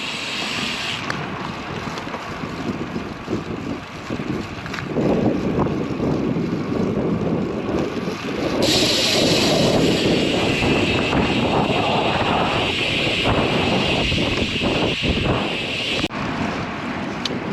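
Strong gusts of 23 to 25 mph batter the microphone during a ride along suburban roads, a loud, fluctuating roar that swells and drops across several surges.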